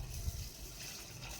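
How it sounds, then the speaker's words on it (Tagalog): Water pours into a pot of rice being readied for cooking, a soft continuous gush and trickle close by, with no talk. "Tapos sabawan na ng tubig."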